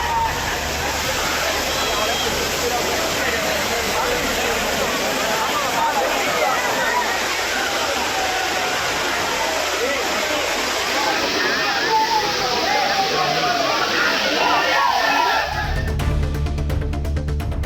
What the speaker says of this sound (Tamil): மெயினருவி, ஐந்தருவி, புளியருவி, சிற்றருவி மற்றும் பழைய குற்றாலம் உள்ளிட்ட அனைத்து அருவிகளிலும் நீர்வரத்து அதிகரித்து